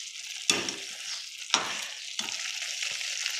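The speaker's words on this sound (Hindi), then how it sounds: "अब हम इसके अंदर थोड़ा सा मिक्स करेंगे।" A mixture with ground tomato is stirred in a sizzling pan, with sharp scraping strokes at intervals over a continuous close frying hiss, with no talk.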